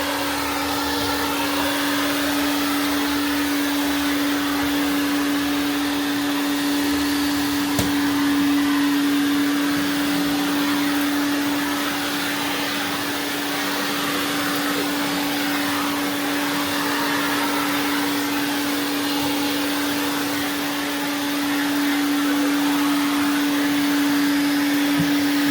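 A Prolux CTX vacuum cleaner runs steadily on a linoleum floor, a loud, continuous motor whine with an even suction roar that stays constant for the whole stretch, with no talking.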